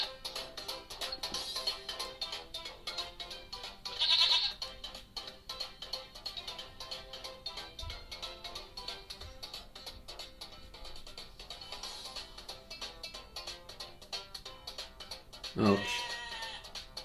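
A goat bleats briefly twice in the mobile video game Oh My Goat, playing on a Samsung Galaxy Note 3, over steady looping game music, with a person talking.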